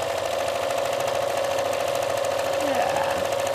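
A sewing machine, likely a quilting machine, hammers out rapid steady stitches through quilt fabric, loud and close with a continuous buzzing rhythm throughout, with faint speech mixed in.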